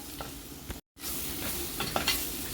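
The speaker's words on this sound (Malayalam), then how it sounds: "ഇനി നമുക്ക് ഇതിലേക്ക് നമ്മുടെ പ്രോൺസ് ഇട്ട് കൊടുക്കാവേ" Prawns go into a hot pan and are stirred, giving a steady sizzle with scraping stirs; a short gap of silence breaks it near the one-second mark before the frying resumes.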